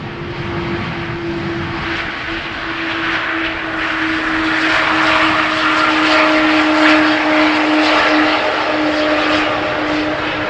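An airliner lands on runway 18R at Amsterdam Schiphol, a loud engine roar with a steady tonal whine that swells midway as reverse thrust is applied, then holds, with no voices present.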